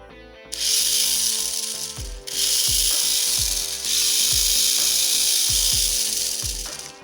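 Mini 4WD Auldey Fire Phoenix on a Super SW chassis runs its swapped motor and ungreased gearset in close bursts, a loud rough whirring buzz with clicking, ratcheting gear chatter that pauses briefly twice.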